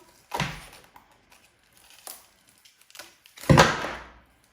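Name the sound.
frozen vegetable stock cubes pushed out of tray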